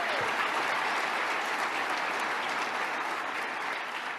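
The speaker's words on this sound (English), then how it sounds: "let's give our great Lieutenant Governor Kathy Hochul a big round of applause" A large audience applauds at a New York State of the State address, a dense, sustained roar of clapping that holds steady and eases slightly toward the end.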